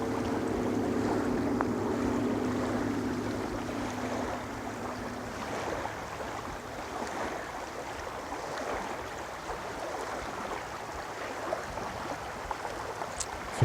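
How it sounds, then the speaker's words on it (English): Gentle ocean waves wash in a soft, steady murmur at moderate distance, with a low hum fading out early and no voices. "Hearing the waves."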